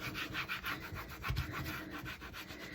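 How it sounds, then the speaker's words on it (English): A scraper tool rubbed back and forth over a transfer pressed onto a UV resin car coaster, steady rhythmic scratchy strokes, close and fairly quiet, with no talking. "we're going to use our tool, our scraper tool"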